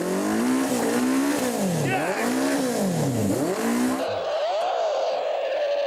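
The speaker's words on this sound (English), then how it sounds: "Is that a motor started there, is it?" A loud airboat engine revs up and down repeatedly in sweeping surges, close by, before settling to a steadier drone.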